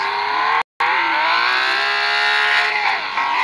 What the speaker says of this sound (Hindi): तो कार को हमने स्टार्ट कर लिया, पहले आपको इसका साउंड चेक करवाते हैं।